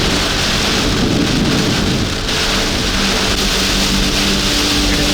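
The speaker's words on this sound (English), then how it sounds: "Get some really good rain." Heavy rain from a hurricane's outer band pours loudly and continuously, a dense roaring wash with low rumbling thunder underneath, recorded on a roadway heading toward Steinhatchee.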